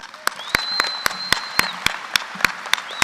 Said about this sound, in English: Please join me in a round of applause for our president